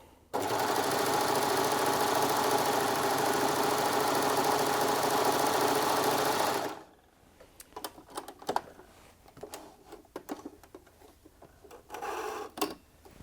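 A Baby Lock Desire 3 overlocker and coverstitch machine sewing fabric runs with a loud, fast, even mechanical hum for several seconds, then stops, followed by scattered clicks and light handling noises.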